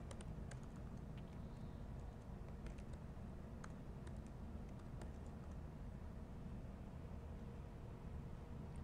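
Someone types on a computer keyboard during a meetup, light scattered key clicks over a steady broad background hiss, fairly faint.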